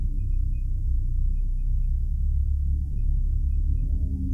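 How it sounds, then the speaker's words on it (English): An elevator in an SCP video game gives off a loud, steady low hum and rumble that fills the whole stretch, with a faint high tone now and then and no voices. "just listen to the elevator."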